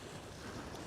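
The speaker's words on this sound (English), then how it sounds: "I'll try to protect you from the wind as much as I can." Gusting wind buffets the microphone on a shore during cod fishing, a steady broadband roar lasting under a second with no talk.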